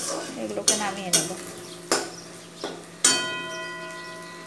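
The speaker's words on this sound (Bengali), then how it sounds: "চিংড়ি মাছগুলো ভাজা হয়ে গিয়েছে, এবার আমি এগুলোকে নামিয়ে নেব।" Fried shrimp for a potol chingri dish being turned and lifted from a frying pan, several sharp metal clanks of a spatula against the pan, ringing briefly, over a faint background sizzle.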